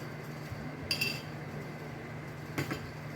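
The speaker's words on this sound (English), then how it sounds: "I'm going to put 2 spoons of oil." Spoons clink against a pan as vegetable oil goes in for a Sri Lankan eggplant moju curry: two brief, faint metallic taps about a second and a half apart over a steady low hum.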